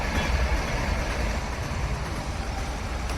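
A train passes close by a railway level crossing, a steady heavy rumble of wheels and cars that holds loud and continuous throughout, with no talk.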